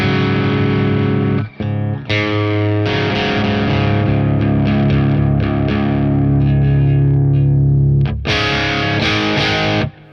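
Distorted electric guitar runs through a Stone Deaf PDF-1X pedal with a mid boost, thick sustained chords and riffs with short pauses, loud and close with no voice.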